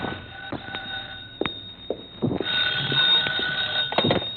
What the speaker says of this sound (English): My phone was ringing when I got there.